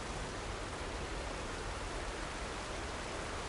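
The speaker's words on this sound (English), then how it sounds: "But the water's coming out of the nose of the aeroplane." In Horizon Forbidden West, water pours from the nose of a crashed aeroplane as an unbroken, dense rushing hiss, steady in level, with no voices.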